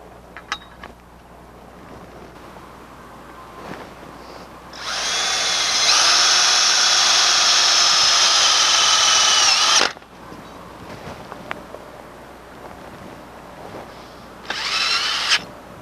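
A power drill drives a self-tapping screw into a fence post cap, a loud steady whir lasting about five seconds, followed by a quieter stretch and a brief second burst near the end.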